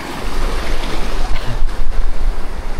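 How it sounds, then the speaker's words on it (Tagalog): Strong ocean surf breaks and churns nearby, a loud, continuous rushing roar mixed with heavy wind buffeting the microphone, with no voices. "Parang malakas yung alon."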